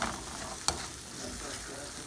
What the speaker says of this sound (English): let me get my eggs. Let's stir that up in there.